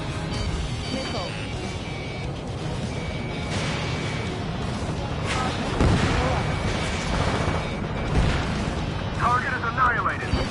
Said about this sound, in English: Spare 2, launching missile.